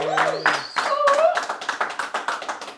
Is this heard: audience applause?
yes